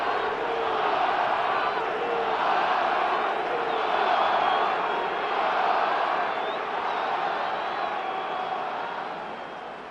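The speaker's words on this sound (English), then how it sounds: "This crowd alive again." Stadium crowd in the Madden 26 football video game, a broad sustained roar of cheering that swells and fades slightly over ten seconds, with no voices standing out.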